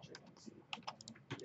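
Typing on a computer keyboard while writing Java code: a quick, faint run of soft key clicks over roughly a second and a half, with quiet room tone.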